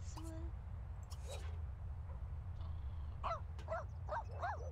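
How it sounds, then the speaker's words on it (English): A small, angry little dog gives a few short yips and whimpers, fairly faint over a steady low background hum, with talking around it. "Angry little dog."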